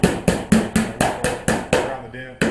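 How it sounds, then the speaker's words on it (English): Steady, loud hammer blows on dented car body metal of a Subaru Justy, about ten evenly spaced ringing strikes knocking the panel back into shape at close range. "Just try hammering around this dent."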